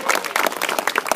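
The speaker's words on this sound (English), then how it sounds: "can I get a round of applause for how beautiful she looks tonight," A brief burst of dense applause, many hands clapping at once in a crowd, steady and fairly loud.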